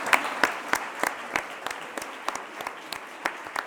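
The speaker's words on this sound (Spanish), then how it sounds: "Un aplauso para Daniel!" A television quiz show's studio audience claps in sharp, steady bursts, with distinct individual hand claps standing out rather than a dense roar.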